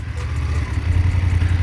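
Suzuki V-Strom 650XT motorcycle engine idling nearby, a steady low rumble with slight clatter and no talking over it.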